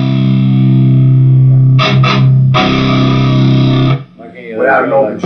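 A heavily distorted electric guitar sustains a loud palm-muted chug note, cuts off briefly, then holds it again before stopping into quieter noise.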